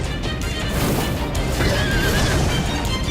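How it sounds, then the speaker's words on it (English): A horse in Final Fantasy XIV gives a loud, drawn-out neigh over dense game background noise, with faint hoof clip-clops beneath it. "Look at that horse!"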